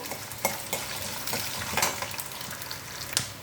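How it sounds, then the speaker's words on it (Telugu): Peanuts frying in oil in a pan for mango pulihora, a steady close sizzle with scattered stirring scrapes and small spatula clicks, no talking. "పల్లీలు కూడా వేసేస్తున్నాను ఇప్పుడు ఈ వేగిన తర్వాత తీసేస్తానండి"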